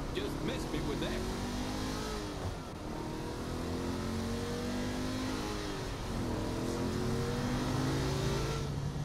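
A car drives in Saints Row: The Third with a steady engine drone that rises and falls through revs and gear changes across the clip, while game voices talk over it.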